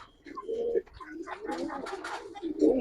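Giribaz pigeons with silver coloring coo softly and repeatedly at close range, low rounded calls coming in short bursts with brief pauses between them.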